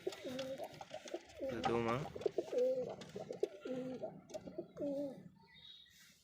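Domestic pigeons in a keeper's loft coo repeatedly in a steady rolling rhythm, close and fairly loud, with someone briefly speaking over the calls partway through.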